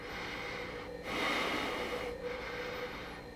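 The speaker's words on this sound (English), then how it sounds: "like, I'm still mouth breathing there." Mouth breathing sounds as a steady, close airy rush, swelling into a louder exhale in the middle before settling back.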